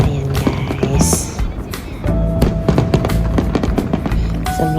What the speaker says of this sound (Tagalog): Sobrang sarap talaga sa feeling na makapanood ng live fireworks.